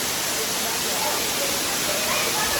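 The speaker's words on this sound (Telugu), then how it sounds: "దీని పేరు క్యాథడ్రల్ ఫాల్స్" Cathedral Falls in West Virginia roars in a thick, even rush of falling water that fills the air without pause, with talk faintly mixed in.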